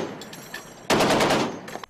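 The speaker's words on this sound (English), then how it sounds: "An hour out to sea, the piercing sound of gunfire is already ringing out over the ship." Sustained automatic gunfire rings out aboard a naval ship at sea during mock war-game drills: a few faint shots, then a loud dense burst of rapid rounds lasting about a second, followed by a couple more shots.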